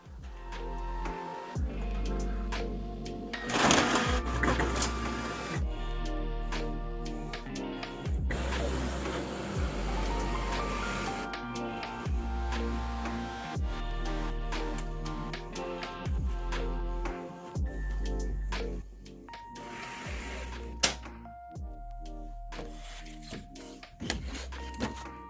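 Printer printing branding onto sketchpad paper, a close run of mechanical whirs, clicks and feed motor steps that stop and restart across the whole stretch.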